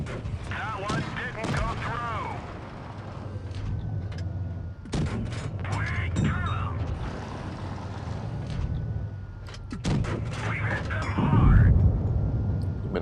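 Gunfire in the E8 Canal video game, sharp shots cracking out at scattered moments over a rumbling battle backdrop, with someone talking over much of it.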